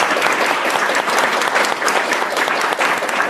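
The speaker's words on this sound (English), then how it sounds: "We should give them a round of applause." Sustained applause from a workshop audience thanking the catering staff, a dense steady wash of many hands clapping at close range that carries on unbroken for several seconds.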